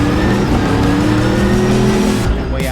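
Twin turbo Corvette race car at speed on track during a World Time Attack Challenge session, a loud sustained engine roar with shifting pitch and a hint of tire squeal, close and continuous.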